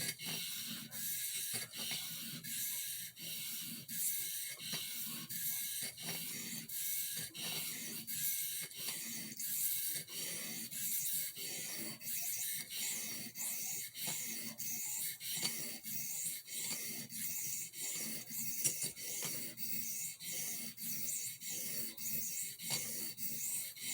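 A swayback whittler knife blade is drawn across a Dan's Washita sharpening stone in steady, rhythmic strokes, giving a soft, repeated gritty scraping close by with no talk.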